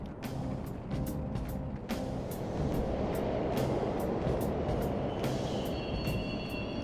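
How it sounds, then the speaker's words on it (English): Subway trains running through a station in the video game Persona 5 Royal, a loud continuous rumble with sharp clicks and rattles, rising slightly and then carrying a high metallic squeal near the end. "The trains are totally running!"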